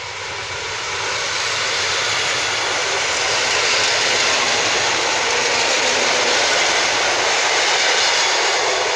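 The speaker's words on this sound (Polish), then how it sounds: "Piękny dźwięk asynchronicznej jednostki." An electric multiple unit train with asynchronous motors passes at Strzelce Opolskie, a loud, broad, steady roar that swells over the first seconds and holds close and strong, with no voices.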